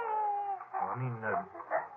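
A radio-drama baby cry imitated by a performer, in short wailing bursts, fairly close, with rising and falling whimpering tones.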